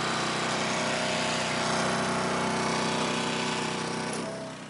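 Timberwolf TW5 heavy duty machine running at a loud, steady, continuous mechanical roar that fades slightly at the end, with no talking.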